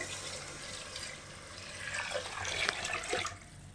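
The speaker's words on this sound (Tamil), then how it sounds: "இப்போ வந்துட்டு நம்ம இந்த தண்ணியை சேர்த்துக்கலாம்" Water poured into a cooking pot for a Bangalore-style vegetable biryani, a steady splashing gush that swells midway and trails off, close and moderately loud.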